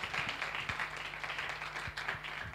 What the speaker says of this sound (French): On va te raccompagner avec, bien sûr, des applaudissements.